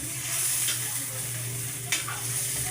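Water boiling in a cooking pot before squash and sweet potato go in, a steady bubbling sizzle that carries on throughout with a brief stir or clink near the end.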